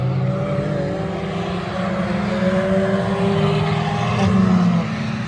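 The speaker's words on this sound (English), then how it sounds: "So we're parked right next to the racetrack." Race cars lap the Cadwell racetrack nearby, giving a continuous droning engine roar that rises and falls slightly as cars pass, heard from a campsite beside the circuit.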